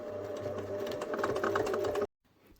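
A sewing machine stitching the seam of a bunny toy, a quick steady mechanical whirring with rapid needle clatter for about two seconds before stopping abruptly into near silence.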